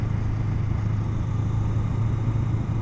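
A 2021 Honda Rebel 500 motorcycle engine runs in a steady, low-pitched hum that stays constant and fairly loud throughout, with no clear revving or gear changes.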